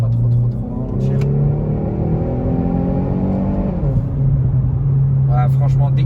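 A Renault Megane 4 GT with its silencer removed revs up in a rising whine, drops off at a gear change, then settles into a steady drone, heard from inside the moving car.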